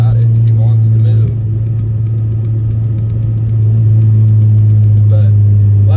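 An 8th-generation Honda Civic Si pulls hard from the cabin with a deep, steady engine drone and road rumble. The sound is loud and close throughout, with a voice talking over it.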